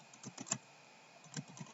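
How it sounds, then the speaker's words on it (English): Quiet, rapid typing on a computer keyboard, with irregular bursts of keystrokes separated by brief pauses, close and alone with no talking. "I'm very aware that you all are watching me type"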